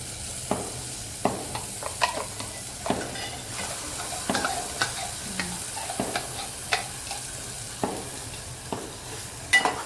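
Ground onion, tomato, ginger, garlic and coconut masala frying in oil, with a steady bright sizzle and repeated scraping stir strokes of a spoon against the pan, close and fairly quiet, no voices.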